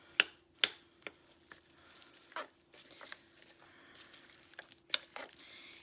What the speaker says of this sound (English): And then give it a nice stir.